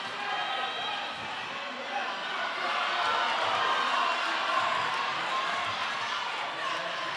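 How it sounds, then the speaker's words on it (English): A crowd roars steadily throughout a USA versus Wales roller derby bout, a dense, continuous wash of cheering that swells slightly midway and never drops away. "The crowd in-house are going absolutely insane for Truck Rogers."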